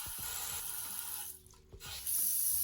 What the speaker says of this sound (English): Now you can turn on the water and test the faucet.